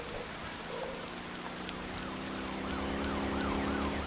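Police siren in the driving game Motor Town swells in from a distance, its wailing up-and-down tone growing louder over engine hum and road noise.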